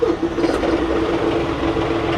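A TYM 3025 compact tractor with a cab and a 25 horsepower engine running at a steady idle, a constant low droning hum with a tonal pitch holding evenly throughout, fairly close and unbroken.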